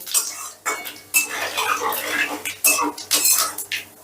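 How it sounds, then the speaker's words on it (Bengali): Whole spices such as cardamom, dried red chillies, bay leaves and cumin seeds frying in oil over low heat, with loud clattering stirring of a metal pan and utensil in repeated bursts. "এবার গ্যাসের আঁচটা লোতে রেখে ফোড়নটাকে একটু ভাজা ভাজা করে নেব।"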